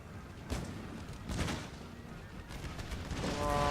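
Mortar fire in Empire: Total War during a siege battle at a fortress wall in Hindustan, with dull distant booms rolling under a continuous battle din of soldiers and gunfire.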